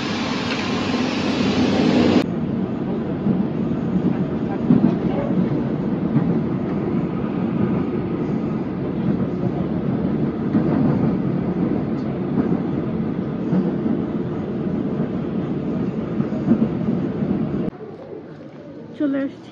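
A metro train rumbles and rolls loudly through a Seoul subway station, its steady roar and clatter holding for most of the stretch before dropping away near the end, with a person talking over it.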